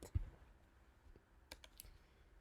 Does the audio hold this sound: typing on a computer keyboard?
yes